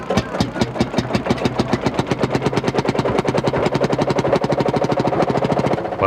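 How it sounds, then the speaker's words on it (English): A restored British 1953 Field Marshal single-cylinder two-stroke diesel tractor engine runs steadily alone, its slow, heavy, evenly spaced thumping beats close and loud throughout. "Paul put his recently restored British 1953 Field Marshal tractor on display, and even started the single-cylinder 2-stroke diesel."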